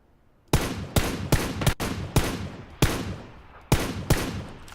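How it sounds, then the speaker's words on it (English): Gunfire in PlayerUnknown's Battlegrounds: about ten sharp, loud shots with irregular spacing, some paired close together, each leaving a short ringing tail over a low background, with no talk. "One of them's down the hill shooting at somebody."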